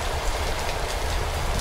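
Heavy rain pours in Trainz Railroad Simulator 2019 on an Indian railway scene, a loud steady hiss of falling water over a low rumble.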